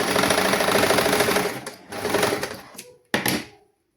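Sewing machine stitching folded fabric pleats: a fast, loud mechanical whirring run for about a second and a half, then shorter bursts of stitching with brief pauses, close up.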